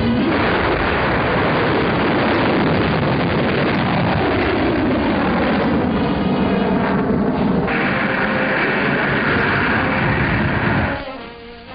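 German V-2 rocket test firing below the Organ Mountains, a loud continuous roaring rumble sustained for about eleven seconds with no gaps, then cutting off abruptly at the end.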